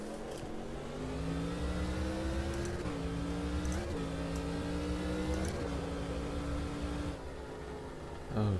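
A V8 Thunder race car in a sim racing series at Sonoma revs through gears, its engine note climbing and dropping in repeated shifts, moderately loud and steady with no voices.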